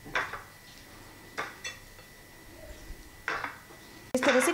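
Pomfret fish pieces being dipped in semolina and set on a plate give a few soft clinks and taps of dish and cutlery, spaced apart in a quiet room, with a brighter clatter at the end.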